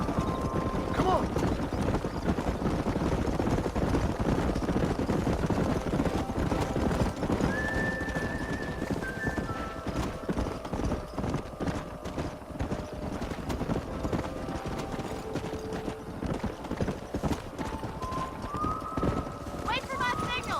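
Horses clip-clopping and galloping in the Red Dead Redemption video game, with hoofbeats running under steady ambient game sound, occasional whinnies, and brief tonal music or effects.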